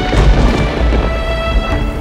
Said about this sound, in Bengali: মেঘ ডাকছে, ছাতা আছে বটে?